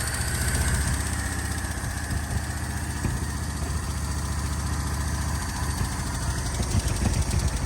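A Chevy 292 inline-six engine idles steadily on all six cylinders, producing a continuous low rumble with a loud, even beat and no talk over it.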